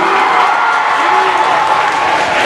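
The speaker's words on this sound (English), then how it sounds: "Mrs. Malakowski, a very nice round of applause," Steady, loud applause from a spelling bee audience fills the room, a dense crowd clapping throughout, with a voice speaking faintly beneath it.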